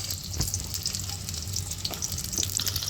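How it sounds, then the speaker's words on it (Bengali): Small boiled potatoes fry in a little oil in a wok for aloo dum, giving a steady close sizzle broken by a few soft stirring knocks. "আলুগুলো আমি দিয়ে নিচ্ছি, এগুলো আমি ভেজে নেব।"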